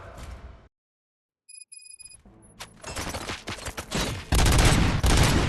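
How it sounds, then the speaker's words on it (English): Gunfire in the video game Robocop Rogue City on PS5: after a brief silence and a beeping alert, bursts of rapid shots build into loud sustained automatic fire near the end. "Gunshots? What's going on?"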